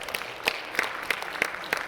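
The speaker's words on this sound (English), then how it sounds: "give them a round of applause for saving us" Scattered, sparse claps from an audience at a high school stage hypnosis show: a handful of distinct hand claps spaced out over a faint room background, as if only a few people are still clapping.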